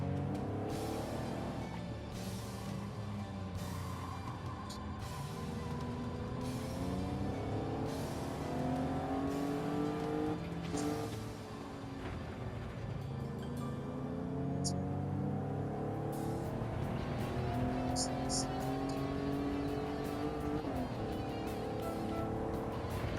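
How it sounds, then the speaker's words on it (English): Maserati race car engine in the Gran Turismo 7 racing game, a continuous roaring drone with rising and falling revs and repeated gear shifts throughout, staying loud and close. "Yep, sounds like an Italian car."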